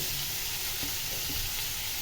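Vegetables sizzle in a frying pan with a steady, unbroken hiss that holds at an even level for the whole stretch, with no voices over it.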